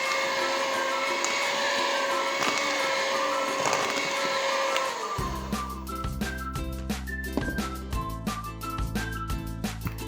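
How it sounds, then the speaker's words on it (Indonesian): Electric hand mixer whirring through cake batter with coconut milk for a mini rainbow cake, a steady high motor whine for about five seconds, then stopping and giving way to clattering kitchen knocks and clinks. "Kemudian kita mixer sebentar, sekitar kurang lebih 10 detik saja."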